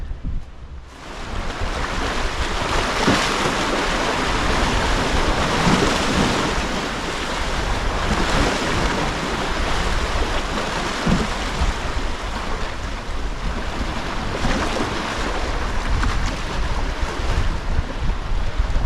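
Rough open sea with strong wind during sea fishing, loud continuous surf and swell churning close by, heavy wind buffeting the microphone throughout, no voices.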